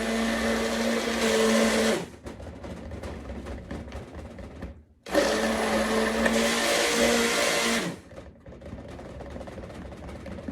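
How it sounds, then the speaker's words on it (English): A stick blender gives two loud buzzing bursts of about two and three seconds while mixing dark oils for a carrot and rice foaming face scrub, with a quieter pause between them. "let's get in here with the stick blender and give it a couple little buzzes"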